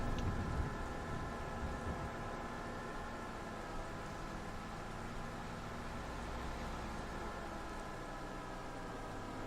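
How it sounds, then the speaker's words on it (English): Steady rain falling in Farming Simulator 25, a dense even hiss with a low rumbling bed underneath, continuous and fairly quiet with no voices. "Of course it's gonna start raining when I go to mow."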